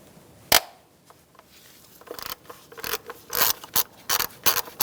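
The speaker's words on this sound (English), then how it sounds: "You're going to use a 10mm socket." A ratchet with a 10mm socket undoes a bolt on a 2010-2013 Kia Soul 2.0L four-cylinder, with one sharp clack early, then rapid bursts of close metallic ratcheting clicks in uneven runs.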